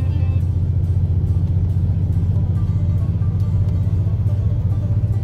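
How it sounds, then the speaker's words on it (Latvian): Steady low engine drone of a tour bus climbing uphill toward the Grand Canyon, heard from inside as a constant, loud, even rumble with no talk. "autobus atbrauc aizvien augstāk."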